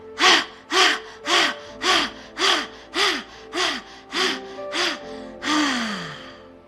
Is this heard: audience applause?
no